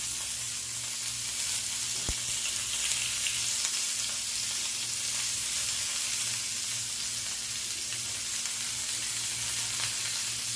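Chicken malai boti pieces sizzle on a griddle with a steady, bright, continuous hiss that holds evenly at close range throughout, broken by one brief clink. Nobody speaks.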